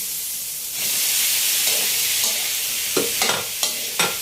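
Pork and tomatoes stirred together in a pan for binagoongang baboy, giving a steady close sizzle, then several sharp scraping strokes of the spoon toward the end. No voices.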